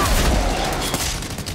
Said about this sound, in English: I'm just gonna let rip with a shotgun straight to the face.